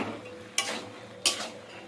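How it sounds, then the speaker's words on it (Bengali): Spiced vegetables with radhuni paste, broad beans and potato are stirred in a pan, two quick scraping strokes of a spoon over a faint low background, quiet and close. "রাঁধুনি বাটা দিয়ে ভালো করে এটা আমি নেড়ে করে নেবো"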